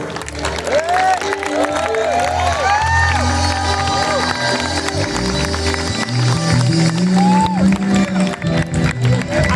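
A church congregation at a closing Assemblies of God gathering in Rodrigues breaks into loud, sustained applause and cheering, with raised voices calling out over a low musical backing throughout.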